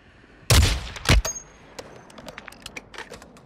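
Two loud, close gunshot blasts in a video game battle royale match, followed by a scatter of fainter, sharp shots and clicks fading off in the distance.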